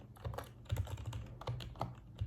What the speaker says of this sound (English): We can just type it like this